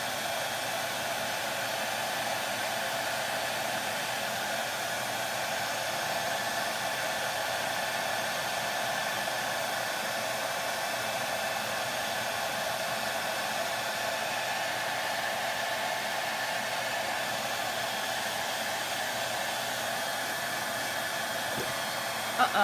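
A hair dryer blows steadily and loudly throughout, drying paint on decorated spring eggs, its even hissing airflow continuous with no breaks and no talking over it.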